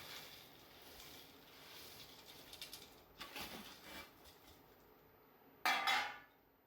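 Boondi is stirred into sugar syrup in a metal pot to make laddoos, producing soft, scraping clinks of a spoon against the pot, ending in a brief, louder clatter.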